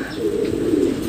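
A young racing pigeon, first home, gives a soft, low cooing call close by, one brief throaty coo.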